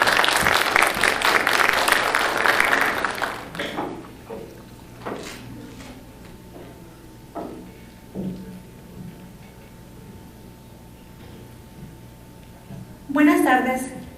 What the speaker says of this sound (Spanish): Un aplauso, por favor, la siguiente ponente.